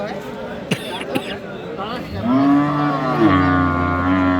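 Cattle at a livestock market in Aftabganj, Dinajpur, including Sahiwal cows with calves, low drawn-out moo rising midway and holding over steady crowd babble, with earlier short knocks and calls in the background.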